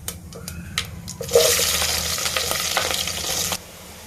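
Onions and green chilies hit a pan and burst into a loud, hissing sizzle that holds for about two seconds and then cuts off sharply, with a few clinks before it and no talking.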